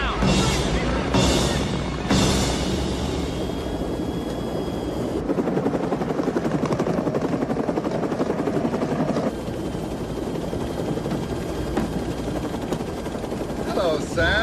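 A helicopter's rotor thumps loudly and continuously, a rapid chopping drone that stays close for the whole stretch.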